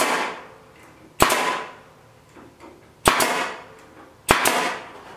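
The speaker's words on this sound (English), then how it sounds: "We want to staple it on this spindle." Chicken wire being stapled onto a wooden spindle while building a cheap DIY chicken coop: three sharp, loud staple-gun snaps spaced about two seconds apart, with faint rustling in between.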